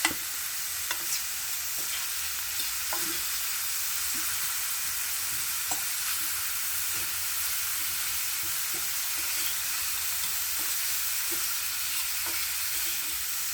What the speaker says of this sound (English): I'm just frying in this, all my vegetables.